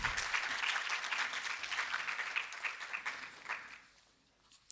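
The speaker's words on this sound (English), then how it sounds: "Another round of applause for Prof." Audience applause at a research indaba on gender-based violence in higher education, dense and sustained clapping from a seated crowd that thins out and fades to near silence at the close.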